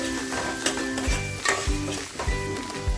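Chopped onion frying in a pan for a crab masala, with a steady crackling sizzle broken by several dull scraping strokes of a spoon stirring through the onions, close and fairly loud.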